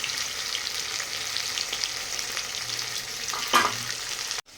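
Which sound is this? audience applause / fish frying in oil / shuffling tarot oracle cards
fish frying in oil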